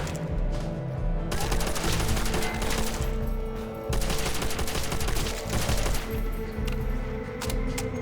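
Sustained rapid automatic gunfire from World War II weapons in the shooter game Call of Duty: World at War, loud bursts of shots with brief pauses between volleys, no voices.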